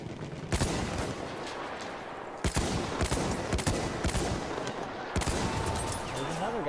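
Gunfire in the Battlefield 1 shooter, a shock troop's automatic weapon rattling in loud bursts with sharp separate shots over a steady background of battle noise, no speech.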